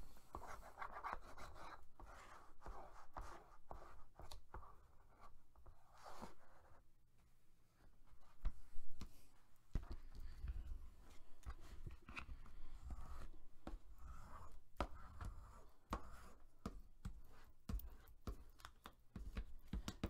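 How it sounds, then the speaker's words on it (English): A burnishing tool is rubbed along paper edges while making a card album, giving faint, repeated scraping and rubbing strokes in close, quiet surroundings with no speech. "I'm going to take my burnishing tool and make sure it's down real good. I am going to go along my edges"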